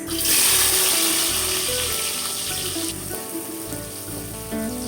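Chopped onions dropped into hot soybean oil in a wok crackle into a loud, steady sizzle that fills the whole clip, with bright hissing overtones and a faint metallic clink under the frying.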